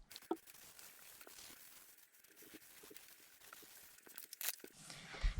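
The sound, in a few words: tearing a piece off a foam pad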